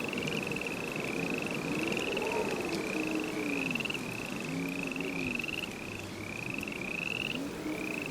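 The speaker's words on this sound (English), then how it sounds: "It is because of this tendency to sing in the rain that the Italian tree frog, la raganella italiana, or Hyla intermedia" Italian tree frogs (Hyla intermedia) call in a rainy chorus, one voice repeating a rapid, regular croaking pulse every half second or so over a softer background of other frogs and steady hiss.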